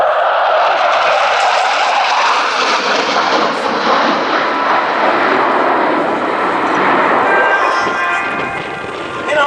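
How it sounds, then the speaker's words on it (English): A Tornado jet with variable-sweep wings flies an airshow display at Cosford, opening with inverted flight. Its engines give a loud, continuous roar that swells and fades slightly throughout, with faint commentary underneath. "The Navigator Tornado will strike up with an inverted flight"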